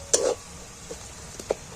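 Soft sizzling from a pan as a spice paste fries over onions and poppy seeds, with a few scraping stirs and light clinks, brief and close.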